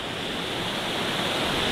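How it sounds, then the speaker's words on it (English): A small waterfall splashes into a stream beside an old mine adit, a steady, even hiss of falling water with no breaks, moderately quiet and close. "You can see that little miniature waterfall over there."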